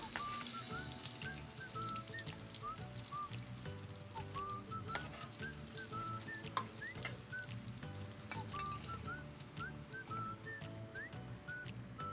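Batter-coated vegetables frying in hot oil, a soft continuous sizzle and crackle with small bubbling pops throughout, fairly quiet and close with no talk.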